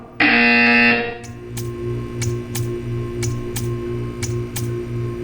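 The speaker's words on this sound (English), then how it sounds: "You will hear a buzzer." A loud, harsh electronic buzzer in Portal 2 blares for about a second, followed by a steady ticking pulse with regular sharp clicks over a low hum.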